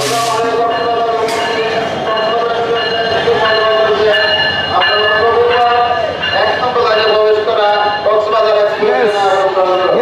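A passenger train pulling into platform line 1 at a Bangladeshi railway station on the Cox's Bazar route, loud continuous wheel squeal and rumbling carriages, with crowd voices mixed in throughout.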